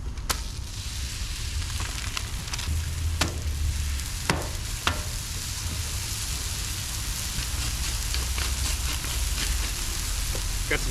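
Venison smash burgers sizzle and crackle on a wet, bacon-greased griddle in a steady close hiss, broken by a few sharp scrapes or taps of a spatula.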